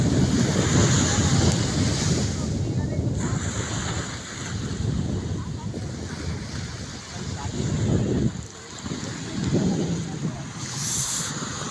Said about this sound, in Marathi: समुद्र, हा आणि समुद्राच्या लाटा.